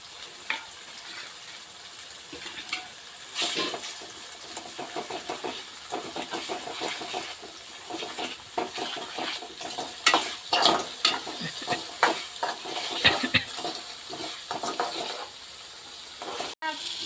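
Onion, tomato and green chili cooking in a pan with salt and masala for a fish-roe bhurji, giving a steady low sizzle broken by frequent scraping stirs that grow busier toward the end, with no talking.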